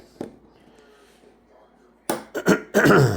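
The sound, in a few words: cough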